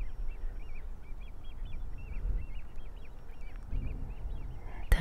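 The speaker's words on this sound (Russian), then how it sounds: "По-моему, там где-то приплывают уточки." Ducks swimming on the water quack in a quick repeated series of nasal calls, somewhat distant and moderately faint over a low background hum.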